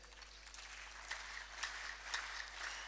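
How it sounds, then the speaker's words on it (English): Applause from an audience honouring Professor Getachew Abebe at an association gathering, a steady, fairly faint wash of clapping with a few louder surges, heard from a distance. "give a great applaud for Professor Getachew Abebe for his contributions for these associations"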